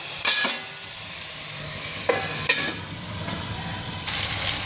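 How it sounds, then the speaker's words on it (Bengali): Fish and vegetables stirred in a frying pan, a steady soft sizzle under intermittent scraping strokes of the spatula against the pan, moderately close, with no speech. "আমি এইভাবে একটু সবজির সাথে মাছটা ভালো করে নাড়িয়ে চাড়িয়ে একটু ঢাকা দিয়ে দিয়ে আমি রান্নাটা করব"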